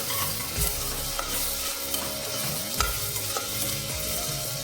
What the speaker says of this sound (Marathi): आता आपण त्याच्यामध्ये आलं लसणाची पेस्ट घालणार आहोत ते पण आपण एखाद दोन मिनटं परतून घ्यायचं आहे चांगलं